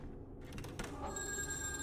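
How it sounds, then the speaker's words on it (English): Telephone ringing in the video game AfterDream, an electronic bell tone that starts partway through and rings steadily over a low ambient hum. "And then the phone is just ringing"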